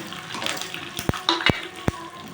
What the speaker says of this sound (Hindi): अभी इसमें हम लोग कड़ी पत्ता डालेंगे